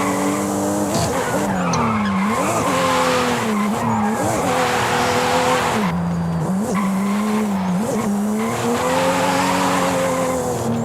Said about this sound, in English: it's so hard to keep drifting